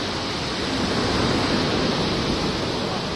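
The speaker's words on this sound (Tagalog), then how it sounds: "Yung sapa na dinaanan ko." A creek flows along a walking path, a steady broadband rush of water that stays even and fairly loud for the whole stretch, with no talking.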